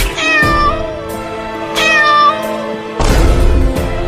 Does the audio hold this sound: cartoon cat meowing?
yes